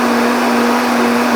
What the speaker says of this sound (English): I think my Vitamix is doing really well though